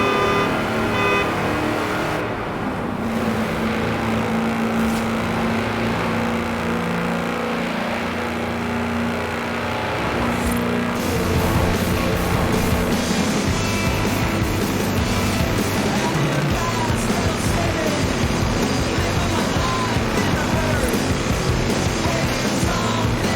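A tractor engine revs hard in Forza Horizon 4, a loud continuous motor drone rising in pitch as it accelerates, with shifting gear surges and steady road roar throughout.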